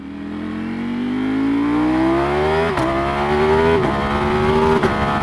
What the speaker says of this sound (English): Yep, goes through all the gears just fine. Auto blips down really nicely too.